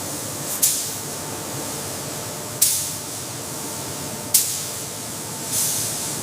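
Robotic sprayers applying coating layers to a high-speed train body give four sharp bursts of spray hiss at a regular interval over a steady background hum.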